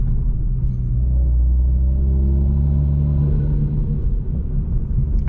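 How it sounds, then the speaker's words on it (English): A 500 hp Toyota Supra cruising in sport mode, its engine giving a loud, steady low rumble from inside the car that swells and eases slightly, with a brief sharp release near the end like turbo flutter. "I do like the turbo flutter though,"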